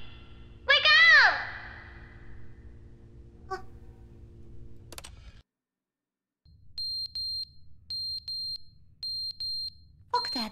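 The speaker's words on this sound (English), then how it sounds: "That alarm?" An alarm goes off in The Stanley Parable video game, sounding as a series of short repeated electronic beeps in evenly spaced bursts after a brief silence, with other game sounds before it.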